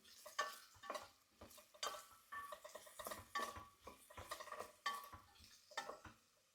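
A spoon stirs red lentil soup made with bone broth in a pot, scraping and clinking against the sides in repeated close strokes with soft bubbling beneath.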